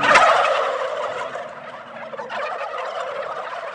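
Turkeys gobbling at a farm, a loud burst of overlapping gobbles at the start followed by a continuous chorus of gobbling and clucking from a flock close by, with no talk.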